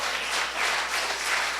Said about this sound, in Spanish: Denle un aplauso fuerte al Señor Jesús